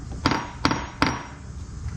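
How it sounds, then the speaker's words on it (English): Three sharp, ringing hammer blows strike a bent metal clip resting on the ground to flatten it, evenly spaced about a third of a second apart, loud and close with no talking. "take a hammer,"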